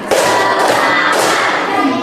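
A class claps in unison in a patterned group rhythm: a few strong, close bursts of clapping ring out across a noisy classroom.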